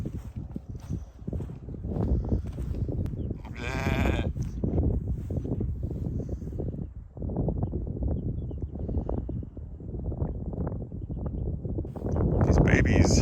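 Lambs in a field bleating and calling toward other sheep, several loud, close cries over continuous rustling and movement, with a person talking at times underneath.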